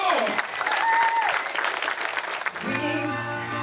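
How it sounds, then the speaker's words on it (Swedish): Studio audience applause on a Swedish TV entertainment show, loud dense clapping for about two and a half seconds, with a whistle cutting through, then giving way to music as the clapping fades. "Sofia Lidman, ge henne en fet applåd."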